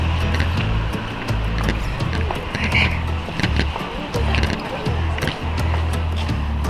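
A city bus rumbles past on a street with shops nearby, a loud, close, uneven low drone with rattles and mechanical clatter.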